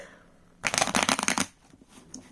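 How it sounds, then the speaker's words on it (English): A trimmed deck of magick-style cards is shuffled in one close, crisp, fluttering burst of just under a second, then light handling noise. "you can see they shuffle really well. Overhand, sideways, or this way."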